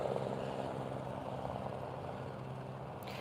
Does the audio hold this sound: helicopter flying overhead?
yes